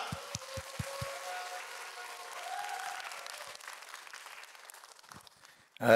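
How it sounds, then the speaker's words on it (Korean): Applause from a church gathering welcoming a pastor at a teachers' spiritual meeting, a steady crowd clatter that begins right after a few low thumps and carries on for several seconds before trailing off, with a brief loud burst at the very end. "우리 이창호 목사님 나오실 때 우리 큰 박수로 환영하겠습니다"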